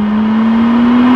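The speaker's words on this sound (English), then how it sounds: "And the sound as well. V6, first time a McLaren's been fitted one of these." McLaren Artura with its V6 engine, rear-wheel drive, pulling hard under acceleration: a loud, steady engine drone holding one strong tone throughout, close and continuous with no talk.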